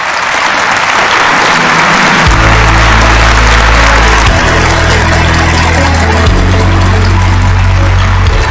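Loud, sustained applause from an audience closing a think-tank rally event in an outdoor plaza at Cheongnyangni Station, Seoul, with a low steady engine-like hum and drone running underneath.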